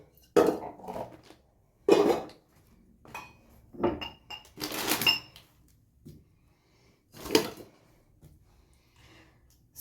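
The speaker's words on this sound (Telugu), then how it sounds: "సో ఇప్పుడైతే గిన్నెలు అయితే కడిగేసుకుంటాను." Dishes, pots and pans clatter during hand washing in a home kitchen, with sharp metallic clanks and scrapes arriving in separate bursts several seconds apart, close by and with no talking.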